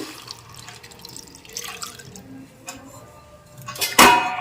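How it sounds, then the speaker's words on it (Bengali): Water is poured into a cooking pot holding tomatoes, pepper and salt for soup, a light trickling splash that swells into a loud gush near the end. "এখন জল দিয়ে দিচ্ছি আমি"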